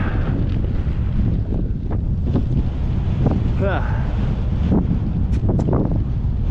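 Headwind buffets the microphone of a cyclist riding up hills in Cooke County, Texas, a loud continuous low rumble with gusty swells and brief faint voice fragments.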